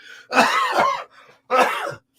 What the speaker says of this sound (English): That ain't no COVID cough.